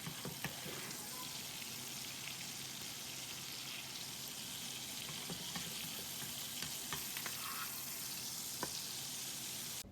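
Whole spices frying in oil in a pan, a close, steady crackling sizzle that runs throughout with occasional small pops and stirring.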